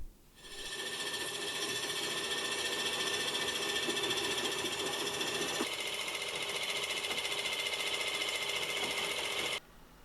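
A vintage watchmaker's lathe with a worn top slide, worn feed screws and feed nuts, being traversed: a steady, fast mechanical whirring with a fine rapid ratcheting texture that holds for about nine seconds before cutting off.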